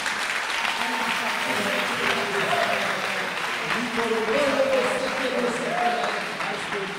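A church congregation claps and cheers in sustained applause that fills the room, with voices rising through the clapping from start to finish.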